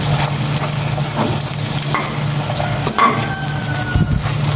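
Rice frying in a pan at home, a steady broadband sizzle running throughout with occasional stirring scrapes and clinks, close and fairly loud, with no talking.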